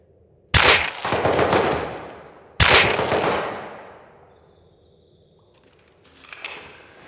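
Two loud, close bursts of rapid gunfire in the Rust video game's military tunnel, each a sharp onset followed by a long decaying echo, then quieter game sounds near the end.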